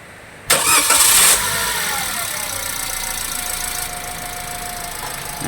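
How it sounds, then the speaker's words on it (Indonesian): A Toyota Calya engine, just fitted with a new water pump, cranks briefly with a loud burst and catches, then settles into a steady, smooth idle heard up close with no talking. "Coba sekarang langsung di start engine."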